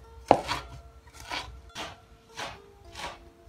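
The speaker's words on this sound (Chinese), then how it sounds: "把它切碎。" Knife chopping through sprouted barley malt, a week-old batch, on a board: five crisp, evenly spaced chops, close and fairly loud, with no talking.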